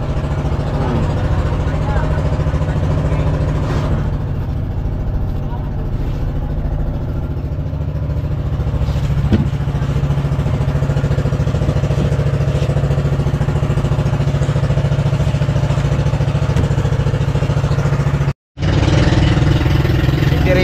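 A steady, low engine idling nearby, droning continuously with a brief cutoff near the end.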